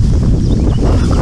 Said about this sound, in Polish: O Jezu, ale ten wiatr tak wieje, że ja nie wiem, czy nas nie zdmuchnie